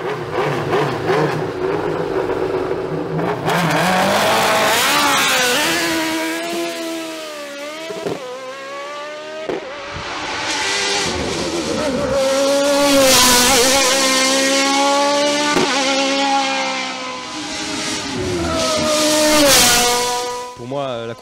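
A Nova Proto NP01 V8 race car at the La Pommeraye hill climb roars loudly close by, its engine note climbing through the gears with sharp dips at each shift, sustained and strained throughout.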